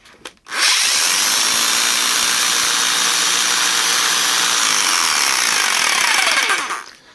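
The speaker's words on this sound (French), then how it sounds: "J'ai amené ma scie sauteuse." A 450-watt jigsaw runs on power from a portable power station aboard a sailboat, giving one loud, continuous whining cut through wood that lasts about six seconds with no talk.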